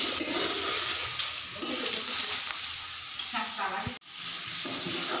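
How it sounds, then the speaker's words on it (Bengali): Drumstick flowers stir-fried dry in a pan with no water added, giving a steady close hiss and sizzle with scraping stirs, broken by one sharp knock near the end. "জল না দিয়ে নেড়ে চেড়ে কষে কষে আমি রান্না করেছি।"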